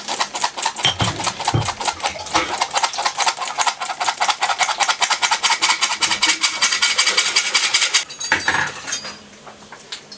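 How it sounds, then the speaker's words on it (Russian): Flour for ciabatta dough being sifted: rapid rhythmic raspy scraping and tapping of a sieve, loud and close for about eight seconds before it stops and fades into quieter rustling. "Конечно же, мы ее просеиваем."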